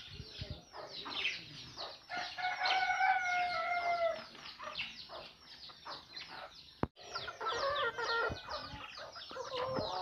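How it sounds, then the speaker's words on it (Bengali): Golden Sebright chickens, roosters and hens together, cluck busily and crow in drawn-out calls, nearby and fairly loud, with one sharp knock partway through. "একবার অরিজিনাল গোল্ডেন সেব্রাইট মোরগ মুরগি"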